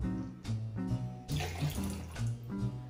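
Two ounces of Aperol poured into a cocktail, a gurgling pour in short bursts lasting a few seconds, close and fairly loud, with no talking.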